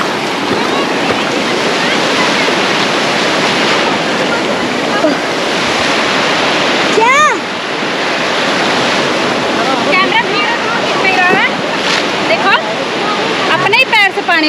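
Sea waves crash and wash continuously onto a beach in a loud, roaring surf, with wind buffeting the microphone and people talking and calling out over the water at moments.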